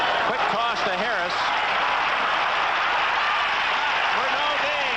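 A stadium crowd at a 1979 NFL football game between the Pittsburgh Steelers and San Diego Chargers cheers with a steady, loud, continuous roar, while a commentator's voice carries over it.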